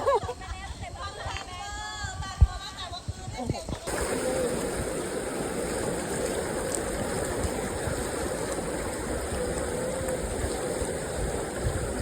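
Rushing water from a waterfall stream in northern Thailand fills the scene with a steady, broad roar after a few seconds, following a stretch of nearby voices and singing; people talk faintly beneath the flow.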